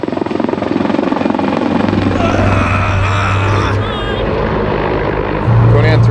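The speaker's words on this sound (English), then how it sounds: "This U.S. Marine chopper arriving is a sign of safety" A U.S. Marine helicopter arriving, its loud rotor thrum and engine roar steady and close throughout, with a voice speaking over the noise.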